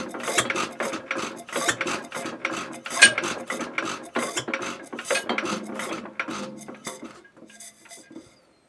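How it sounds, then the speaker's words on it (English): An antique gas engine, its valve just freed after being locked open, clatters and ticks with rapid mechanical ignition knocking, stopping briefly before starting up again, close and rattly. "All right, I hear the ignition."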